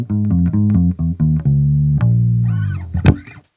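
A bass guitar with boiled strings is played fingerstyle in a short, punchy phrase of plucked notes and slides, loud and close, ending with a few ringing harmonic squeaks before stopping.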